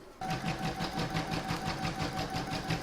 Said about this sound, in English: I'm now going to pop that in my machine and stitch round number 1, and that's going to do the outline.